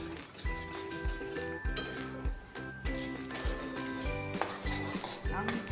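A utensil stirs food in a pan with oil, scraping and clinking against the metal in a steady repeated rhythm under a soft sizzle, close and moderately loud.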